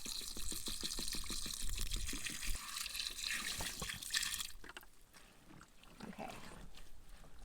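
Water pours and splashes into a portable TecTake mini washing machine, a steady liquid rush running for several seconds, then thinning into softer trickles and drips.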